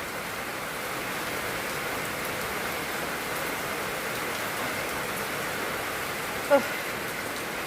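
Steady rain falling, an even, moderate hiss that holds constant throughout with one brief knock near the end.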